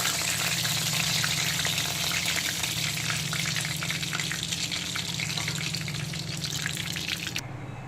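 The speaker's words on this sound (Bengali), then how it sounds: "তো সবগুলো পমফ্রেট মাছ আমি ভেজে তুলে নিয়েছি ভালো করে।" Pomfret fish coated in salt and turmeric fry in oil with a dense, loud, steady sizzle and bubbling close by. The sound barely changes until it fades slightly at the end, with no voices.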